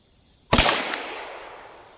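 A single sharp gunshot from a Ruger Super Wrangler revolver cracks out close and loud, then a long echoing decay rings out across the range.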